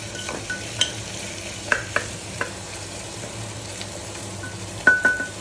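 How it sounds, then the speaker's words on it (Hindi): Tomatoes fry in a pan over a medium flame with a continuous steady sizzle, while a spoon stirs them, scraping and tapping against the pan now and then, close up. "अब हम इसमें टोमेटो डाल देंगे सारे के सारे और थोड़ा मीडियम फ्लेम में इसको चलाना है"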